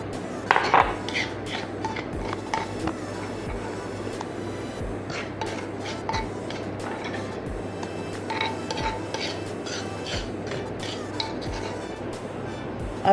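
A spoon scrapes mango chutney made from green raw mango into a bowl, heard as repeated clinks and scrapes of metal on a dish against a low steady hum.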